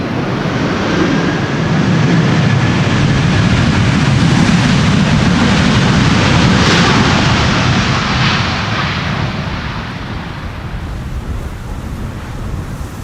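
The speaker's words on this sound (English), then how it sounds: "This is Delta Airlines Flight 74," A Delta Airlines jet on a crosswind landing onto Schiphol's Polderbaan runway 18R, a loud broad roar that swells and holds then slowly eases, mixed with heavy wind buffeting on the microphone.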